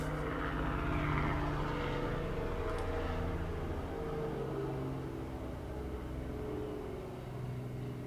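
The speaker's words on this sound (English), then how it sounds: "Fucking helicopter's back, so I'll just wait." A helicopter flies overhead, its steady low rotor drone continuous and fairly loud throughout, swelling slightly near the start and holding level to the end, with no talking.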